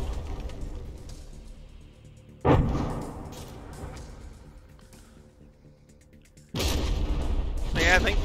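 Battleship shells explode in the From the Depths naval combat game, with two heavy booming blasts several seconds apart over a quieter rumbling game background.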